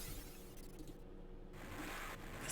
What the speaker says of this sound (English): The sound of breaking glass.